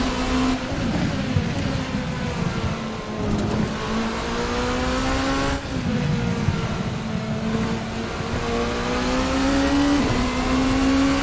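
Rebellion R13 LMP race car in Assetto Corsa, an engine droning steadily at high revs, rising in pitch and briefly dipping with gear changes. It is loud and continuous with no talk.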